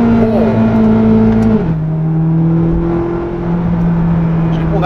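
Naturally aspirated V8 of a Corvette C8 Z06 revving, loud and close with strong sustained engine tones that hold high, drop sharply as the revs fall, then settle and hold at a lower steady pitch.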